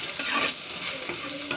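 Bitter gourd slices frying in oil over a high gas flame, a brief close sizzle with stirring scrapes and a faint clack of the pan.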